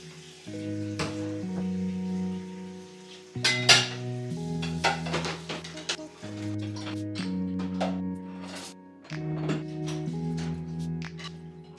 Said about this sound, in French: surtout faire la vaisselle, très important